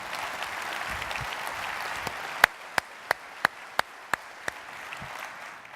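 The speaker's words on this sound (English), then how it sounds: "how about a round of applause for Proud to Be" Audience applause fills a hall at a military speech, a broad wash of clapping from a crowd with a few sharp, distinct claps standing out near the front.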